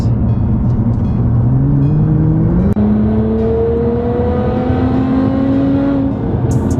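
A Nissan GT-R engine accelerating hard, heard from inside the car, its loud, steady drone climbing in pitch over several seconds with a brief break midway as it shifts, then rising again.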